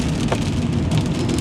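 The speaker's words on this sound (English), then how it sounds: "I hope it stops raining" Steady rain falls on a muddy building site, a dense continuous hiss of drops striking surfaces, close and fairly loud, with no voices.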